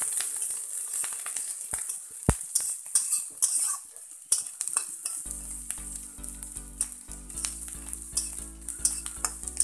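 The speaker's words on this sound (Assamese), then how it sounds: "এইটো আমি ভালকৈ ভাজি ল'ম" Onions and green chillies frying in hot oil, a bright continuous sizzle with occasional stirring clinks, joined partway through by a low steady hum.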